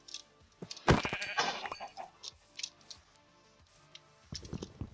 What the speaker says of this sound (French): je vais déjà tuer ce mouton